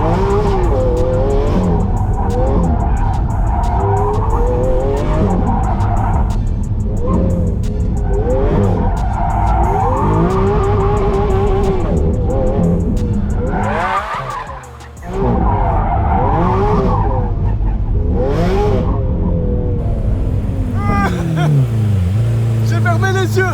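Lamborghini SV sliding with tyres skidding, loud sustained squeal and engine roar sweeping up and down in pitch for the whole stretch, with a brief dip midway and people talking over it.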